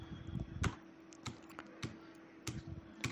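Keys clack on a computer keyboard as a search is typed, a sparse run of distinct taps with short pauses over quiet room tone.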